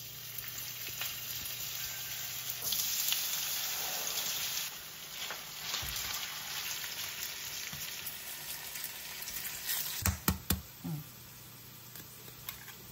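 Sliced potatoes fry in hot oil in a pan, a steady close sizzle with stirring scrapes and a few sharp clatters near the end.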